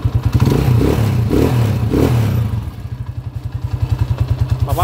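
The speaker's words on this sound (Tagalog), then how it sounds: "pandarin na muna natin to para marinig natin yung andar" A newly overhauled motorcycle engine, fresh block being broken in, running close by, first with a rough, revving roar, then settling into a steady, loud chugging idle.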